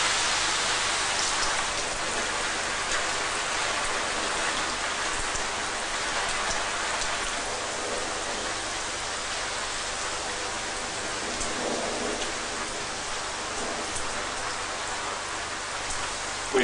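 Heavy rain from a storm pours steadily behind a house, a dense continuous hiss of drops on surfaces, even and enveloping with no pauses.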